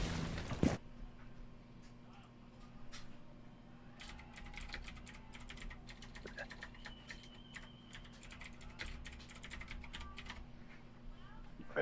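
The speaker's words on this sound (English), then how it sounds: "You must be typing in some real shit talk, dude." Keys on a computer keyboard clack in quick irregular bursts during a Rainbow 6 Siege gaming stream, faint and close over a low hum.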